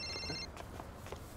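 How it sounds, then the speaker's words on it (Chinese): A telephone rings briefly with a short electronic trill that cuts off after half a second, followed by faint rustling and a couple of soft footsteps, quiet and close. "我接个电话。"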